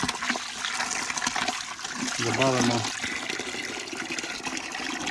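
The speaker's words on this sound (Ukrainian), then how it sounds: "додаємо приблизно 10 літрів води" About ten litres of water pour into a 20-litre bucket to mix a grapevine feed, a gushing, splashing flow heard close by under a man's brief speech.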